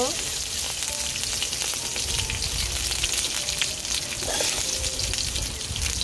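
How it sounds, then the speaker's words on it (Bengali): Black cumin seeds frying in a hot pan, a steady loud sizzle with faint scraping as the seeds are stirred briefly, continuous throughout and without talking. "কালো জিরে দিয়ে বেশিক্ষণ নাড়বো না, একটুক্ষণ নেড়ে নামিয়ে নিব।"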